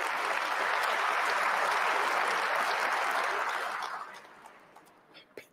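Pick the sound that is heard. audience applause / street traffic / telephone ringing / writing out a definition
audience applause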